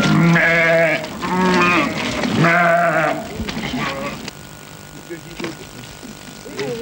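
Sheep raised on a farm kept by a paraplegic breeder bleat several times up close, loud overlapping calls that then give way to quieter farmyard sounds and a faint engine hum.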